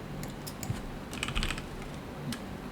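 Keys clatter on a computer keyboard in quick irregular bursts of clicks, close and fairly quiet over a low background hum.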